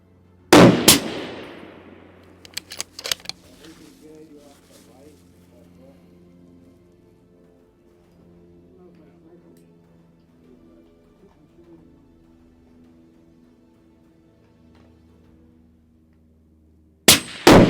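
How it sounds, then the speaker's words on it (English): Two loud, sharp rifle shots from a new Accuracy International AT-X firing 140-grain rounds, one near the start and one at the end, with a long stretch of quiet low hum and faint movement between them. "Brand new rifle shooting 140 grainers."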